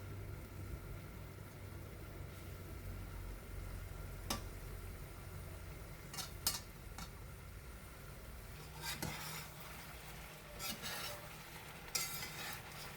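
Chicken and tofu simmering in a pan as a utensil stirs, giving a low steady bubbling hum broken by a few sharp metallic clinks, with no talk.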